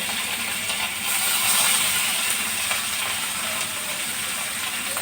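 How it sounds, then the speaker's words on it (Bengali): Snakehead fish pieces frying in a smoking-hot wok give off a steady, soft broadband hiss, with a few faint clicks and scrapes and no talking. "কড়াই থেকে যখন ধোঁয়া উঠতে শুরু করবে তখন আমি শোল মাছগুলি দিয়ে দিলাম।"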